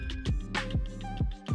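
Layered metallic hits for a game's turn-start cue, struck metal stacked with steel and a rumbly low end, several ringing clangs in quick succession with short decays.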